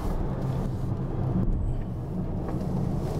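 A Mitsubishi Outlander PHEV prototype accelerates hard at full throttle, giving a steady close cabin rumble of road and drivetrain noise with no speech.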